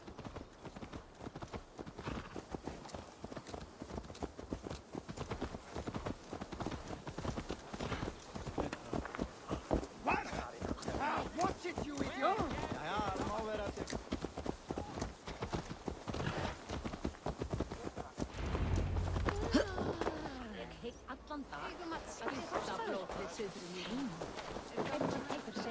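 Horse hooves clip-clopping as a mount is ridden in the video game Assassin's Creed Valhalla, a steady rhythmic patter running throughout under ongoing character dialogue and game ambience.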